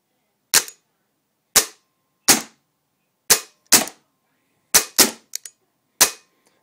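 A CVM 973 Karnivor paintball marker firing, eight sharp close pops spaced irregularly over a few seconds, including a quick double shot and a short stutter, with no talking.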